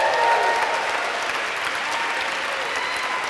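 Warm applause from a seated crowd at a fashion industry gathering honoring Coach CEO Lou Frankfurt, dense steady clapping with no voices.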